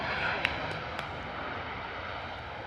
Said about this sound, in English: Ryanair coming in nice and loud on the reverse thrust for us.